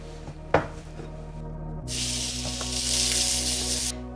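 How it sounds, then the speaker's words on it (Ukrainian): Beef frying in a pan with spices and salt, a steady loud sizzle that surges and stays dense after a quiet start, with a sharp clatter early on. "І далі обсмажу до готовності."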